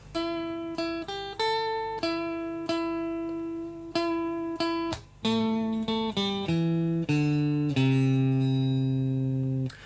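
A clean electric guitar plays a short melodic lick, a run of distinct plucked notes ringing out one after another, played alone.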